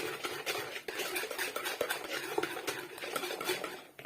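Milk is stirred into Belgian waffle batter in a bowl: a steady, close scraping and clinking of a utensil against the bowl, continuous and fairly quiet.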